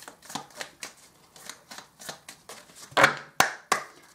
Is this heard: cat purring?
no